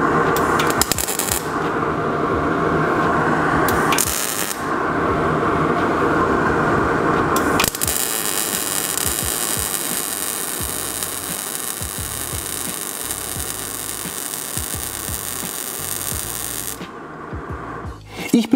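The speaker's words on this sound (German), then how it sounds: "Ich habe Stahlbleche vorbereitet und nun beginnen wir mit dem Schweißen." A transformer gas (MIG) welder joins 2 mm steel sheets in an overlap seam, giving a loud continuous crackling buzz broken by short pauses between weld runs.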